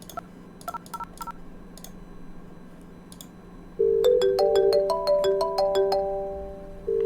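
A quick run of electronic keypad tones as extension 2001 dials extension 2000 on a 3CX phone system, then a steady repeating ringing tone with layered beeps, loud and close, no voices.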